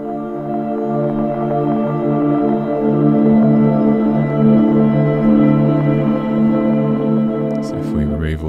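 Lo-fi granular pad texture from an Omnisphere synth with reverb and compression, sustained layered tones droning steadily for several seconds, playing alone without talk.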